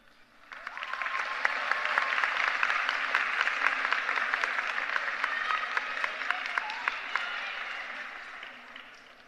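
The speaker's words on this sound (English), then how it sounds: "Fellow graduates, I ask you to turn around and give a round of applause to your village." High school graduates applaud their families at a commencement ceremony; a broad, sustained wash of many hands clapping swells in quickly and holds steady, slightly distant, for several seconds.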